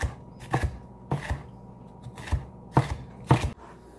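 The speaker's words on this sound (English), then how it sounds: "we're just going to dice this up." A knife dices a red pepper on a cutting board in a kitchen, giving about seven crisp, evenly spaced chops that are close and clear, with no talking.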